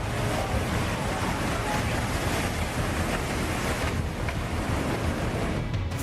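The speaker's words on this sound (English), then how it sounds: "a massive wave unexpectedly crashed over a dam" A massive tidal bore wave on the Qiantang River in southern China crashes over a dam, a steady, loud rushing roar of churning water with wind buffeting the microphone throughout and no voices.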